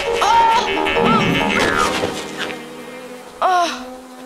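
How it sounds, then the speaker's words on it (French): A cartoon mosquito buzzes in high whining bursts that swoop up and down near the start, fades, then returns with a sharp, loud buzz and smack toward the end over a faint background. "Aïe, un saleté de moustique."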